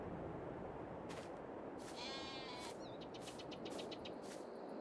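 Sheep bleat in Farming Simulator 22 on a pioneer map farm, several wavering calls in the middle of the clip over a steady, noisy ambient bed.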